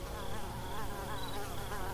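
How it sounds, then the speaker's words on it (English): Mosquitoes whine and buzz continuously as a sound effect, a dense, close, steady insect drone filling the whole stretch with no voices. "under attack from all sides by mosquitoes"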